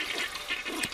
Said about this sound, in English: I hear a flush from the bathroom.